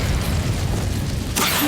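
Incendio fire spell cast in Hogwarts Legacy, a loud whooshing burst of flame with a low rumble, followed by a brighter hissing crackle near the end.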